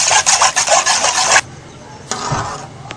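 Ground ginger and garlic stirred together with spices for Kashmiri chicken goshtaba, heard as close, loud scraping and rubbing strokes that stop abruptly, then a quieter scrape follows.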